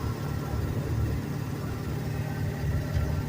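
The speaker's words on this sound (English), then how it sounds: "Has a nice turbocharger or whistle." A 2001 Amtran International school bus with a 7.3 diesel rolls along at road speed, its engine a steady low rumble that drones on evenly throughout, with the turbocharger's whistle blended into the drone.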